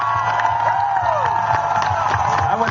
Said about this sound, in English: How many people, by round of applause,